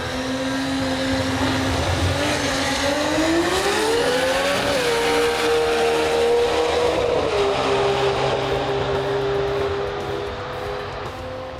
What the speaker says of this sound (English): The quickest R35 in the stock turbo class was Adrian Koch.